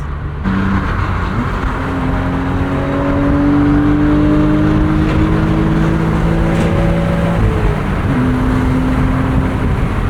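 A 1999 BMW M Roadster engine revs up hard with a deep, throaty growl that climbs and holds, loud and close, with no talking.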